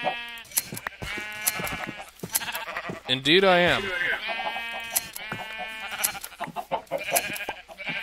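Sheep bleat repeatedly in a video game, wavering cries rising and falling over several seconds with someone talking in between.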